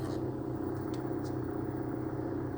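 A Lada Vesta with a robotized transmission and 12,000 km on it gives off steady low rumbling gearbox noise, with a few faint short clicks and knocks above the drone.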